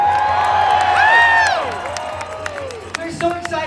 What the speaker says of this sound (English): Let's give another cheer for Mayor Johnson.